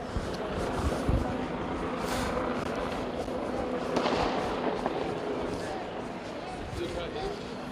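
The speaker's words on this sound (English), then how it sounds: "I wonder how these police are going to respond to fireworks" Fireworks popping in the distance at a Seattle street protest near Cal Anderson Park, a few sharp cracks scattered through outdoor crowd noise, with people talking nearby.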